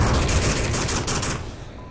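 Rapid automatic gunfire from the VR shooter Onward during a competitive team match, a dense continuous burst of loud shots for about a second and a half before cutting off abruptly.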